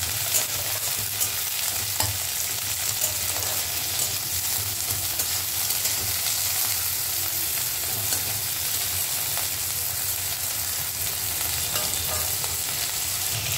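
Shrimp frying in a pan with garlic and onion for a red amaranth greens stir-fry, a steady loud sizzle with stirring scrapes running throughout, no voices.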